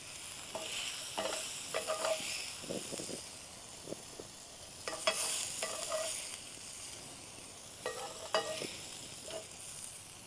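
Eggs fry in grease in a pan on a camp stove at an old outlaw cave, a steady close sizzle and hiss broken by scattered spatula scrapes and taps.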